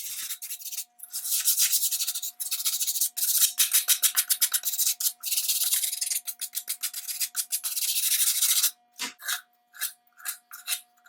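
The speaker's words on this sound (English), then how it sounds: "I use a hard rubber sanding block to keep my sandpaper up on the surface and not down into the depressions in low spots." Sandpaper on a hard rubber sanding block rubbing over puttied spots on a Brewster lamp, a close, steady run of rasping back-and-forth strokes that break into shorter, separate scrapes toward the end.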